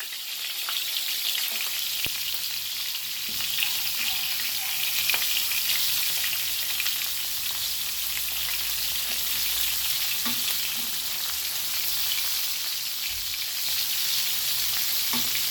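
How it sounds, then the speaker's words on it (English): Saltfish frying in a pan, a steady bright sizzle and crackle of hot oil with occasional soft pops and stirring clinks, continuous and close, no talking. "We're just gonna fry them on one side, guys, and then gonna flip them on the other side"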